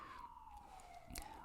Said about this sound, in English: Nice police siren right outside the house.